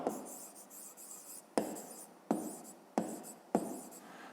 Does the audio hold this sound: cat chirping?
no